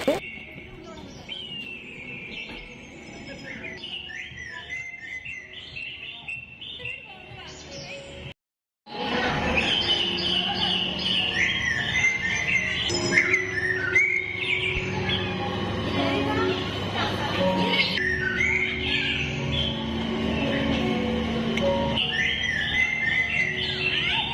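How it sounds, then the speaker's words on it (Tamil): Mechanical robot birds at an exhibition in Tirunelveli chirp and tweet steadily, with repeated high electronic-sounding calls and busy fairground background noise around them. "உள்ளே ஃபஸ்ட்டு போனதுமே இயந்திர பறவை கண்காட்சி தான் இருக்குது."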